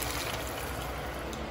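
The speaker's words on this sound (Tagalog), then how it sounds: "So, maglagay na tayo ng tubig ulit." Water pours steadily into a cooking pot of fish sarciado with shrimp cubes, a continuous close splashing rush without pause.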